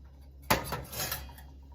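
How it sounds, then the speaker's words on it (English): A metal clank against a pan, then a soft brief sizzle and light scraping as eggs go in to cook low and slow, close and fairly quiet. "I like to go low and slow with scrambled eggs. So in they go."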